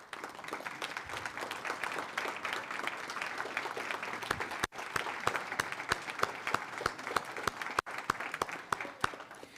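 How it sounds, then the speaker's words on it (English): Sustained applause from faculty and staff at a college announcement event, a dense even wash of clapping from a large crowd that continues steadily throughout. "give them a round of applause"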